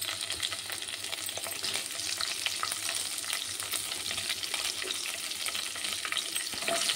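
Mustard seeds and whole spices splutter in hot oil, a dense crackling sizzle with scattered sharp pops, steady and close throughout, no talking.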